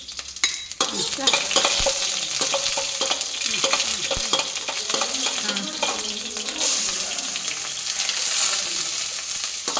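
Onions frying in a pan for shavige bath, with a steady broadband sizzle throughout and repeated stirring scrapes and clinks of a utensil against the pan.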